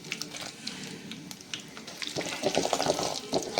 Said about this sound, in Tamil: முந்திரி பருப்பு கொஞ்சம் சேவரட்டும்.